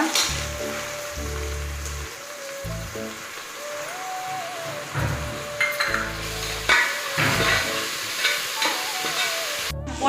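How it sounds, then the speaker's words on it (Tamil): Ginger garlic paste sizzling as it is sautéed with onions and green chillies in a pan for a chickpea kurma, a steady close frying hiss with stirring scrapes and a few clinks, under background music and without speech. "லைட்டாக இஞ்சி பூண்டு பேஸ்ட்லாம் வதங்கிடுச்சு"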